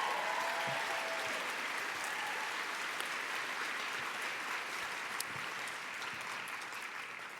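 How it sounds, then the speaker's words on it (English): Sustained audience applause at a keynote talk, a steady wash of many hands clapping that fades slightly toward the end, with no voices over it. "Let's give her another round of applause"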